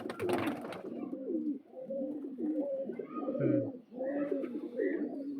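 Male pigeon of a fancy Madrazi breed cooing in a repeated series of soft, throaty, rolling calls at close range, with a brief scuffle of noise at the start.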